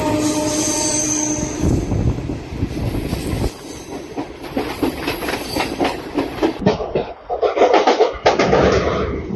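A crowded MEMU festival special passenger train runs on rails between Visakhapatnam and Simhachalam, its wheels clattering and squealing loudly with a steady rhythm, close and continuous, rising in bursts toward the end.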